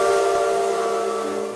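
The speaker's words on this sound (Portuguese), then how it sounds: "o apito da Maria Fumaça ainda ecoa pela mata" A Maria Fumaça steam locomotive whistle on the Madeira-Mamoré railway in the Brazilian forest blows one loud, steady multi-tone blast that fades slightly toward the end.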